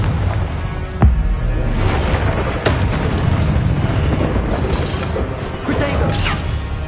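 Confringo fire spell blasts in Hogwarts Legacy, several sharp booming impacts over a rumbling, crackling battle background, each hit loud and sudden.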